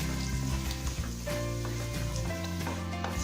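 Asafoetida, cumin, bay leaf and red chillies fry in hot oil over a low flame, a steady close sizzle running throughout.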